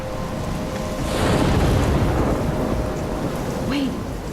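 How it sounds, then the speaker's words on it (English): Thunderstorm in the video game Life Is Strange, steady heavy rain with a deep rolling rumble of thunder swelling partway through, loud and enveloping. "I'm trapped in a storm?"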